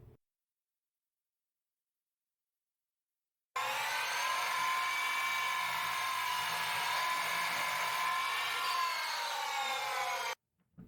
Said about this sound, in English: Then I cut off the overhangs on the crosscut sled and screwed them in place.